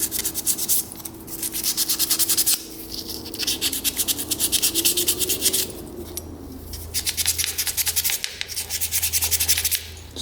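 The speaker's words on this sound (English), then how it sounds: "I'm just gonna take a little bit of light sandpaper, WD-40, clean up this needle" Light sandpaper with WD-40 rubbing a carburetor needle from an old Russian military motorcycle, a steady close scratchy rasp in quick back-and-forth strokes, pausing briefly twice.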